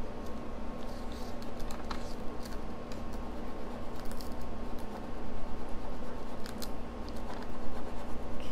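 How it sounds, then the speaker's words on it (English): Steady close scraping and rubbing of a burnishing tool across an old silver-plated piece, a continuous dry friction texture with small rhythmic swells and no speech. "Just put it back down and keep burnishing it."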